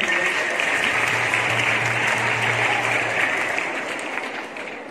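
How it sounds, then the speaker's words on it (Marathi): Students in a classroom clap for a group, a dense and steady round of applause that stays loud before easing off near the end, with a faint low hum underneath and no talking. "सर्वांनी टाळ्या वाजवा"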